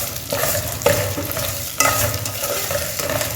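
Village chicken pulao frying in a pan with steady sizzle and several scraping stirs of a spoon, close and clear with no talking.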